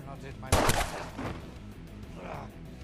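A film gunshot rings out as a single sharp loud crack with a short echoing tail, while a voice narrates over it.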